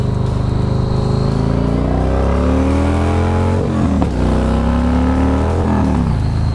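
A motorcycle accelerates away from a red traffic light, its engine note climbing steadily through the revs, easing briefly at a gear change and then pulling hard again, loud and close throughout.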